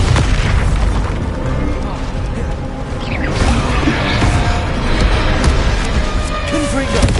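A Bombarda blasting spell explodes in Hogwarts Legacy combat: heavy booms and bursts rise out of a dense, continuous wash of battle noise.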